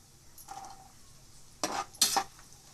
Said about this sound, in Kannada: ಗೋಡಂಬಿ ಸ್ವಲ್ಪ ತುಪ್ಪದಲ್ಲಿ ಫ್ರೈ ಮಾಡ್ಕೋಣ